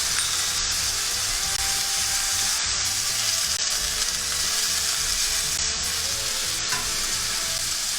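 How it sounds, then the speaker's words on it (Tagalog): Carrot pieces sizzle loudly and steadily in a hot pan, a dense, continuous crackle with no pauses and no voices. "hayaan lang nating lutuin ang magkabilang side ng ating carrots"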